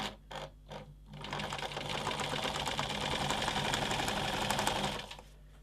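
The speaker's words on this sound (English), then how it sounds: "Foot up, turn the corner, and we'll sew the last armhole." A sewing machine stitches the last armhole of a Gossypium apron dress, starting with a few short stop-start bursts, then running steadily for about four seconds before it stops, close and clear.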